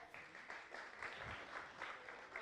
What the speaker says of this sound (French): On applaudit s'il vous plaît